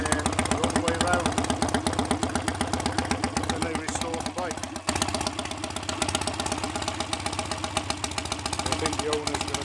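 A BSA A65 Hornet motorcycle engine ticks over at a steady, close idle with a loud, even mechanical beat, briefly dipping once midway before settling back into its rhythm.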